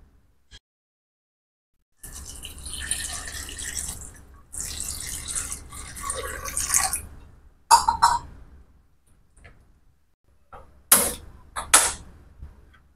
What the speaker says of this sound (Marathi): टोपामध्ये पाणी घालून तुम्ही शिजवू शकता। मी इथे पाणी घालते।